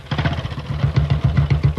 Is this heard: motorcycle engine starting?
yes